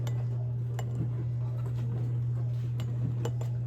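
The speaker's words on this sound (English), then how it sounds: "I'm just going to drop in some garlic cloves" Garlic cloves drop into glass canning jars packed with pickled green tomatoes, giving several light, scattered clinks over a steady low hum.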